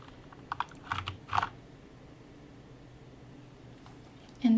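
Keys on a Corsair K70 Lux RGB mechanical keyboard are pressed in a few quiet, close clicks, bunched into a short run near the start, then a long faint pause and one last soft thump at the end.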